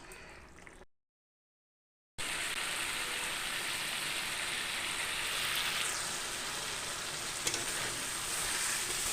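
Potatoes being sautéed with a little sugar in a pan for a light fish curry, a steady close sizzle and crackle of frying after a brief silent gap, with occasional stirring scrapes and no talk.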